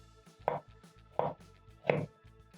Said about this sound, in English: So I'm going to give the carrots a rough chop.